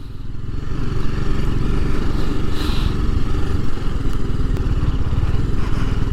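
An RR 310 motorcycle descends a steep off-road slope, its single-cylinder engine a loud, close, steady low putter with rattling chassis clatter and occasional bumps throughout.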